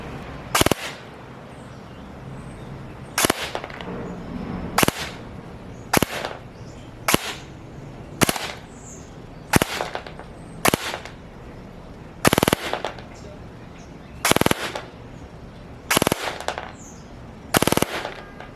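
A Valken ASL airsoft gun firing 0.2 g BBs through a chronograph on an 11.1 V 1300 mAh battery: about a dozen sharp, loud single or short-burst shots spaced irregularly, with no talking.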